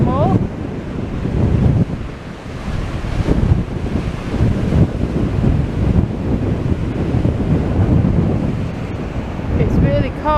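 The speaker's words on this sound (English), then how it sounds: "It's really cold and it's super windy." Strong wind buffets the microphone while waves surge and crash along Blackpool promenade in cold, stormy weather, a steady roaring wash throughout.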